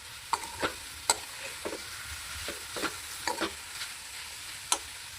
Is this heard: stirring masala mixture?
yes